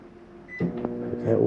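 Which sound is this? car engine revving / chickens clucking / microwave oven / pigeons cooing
microwave oven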